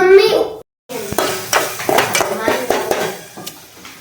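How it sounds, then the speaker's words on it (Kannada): A voice speaks briefly, then after a short gap a spoon clanks and scrapes repeatedly against a pan as an onion curry is tempered and stirred, with a light sizzle beneath the irregular metallic knocks. "ಈಗ ಪಲ್ಲೆ ಒಗ್ಗರಣೆ ಹಾಕಿ ಮಾಡ್ತೀನಿ"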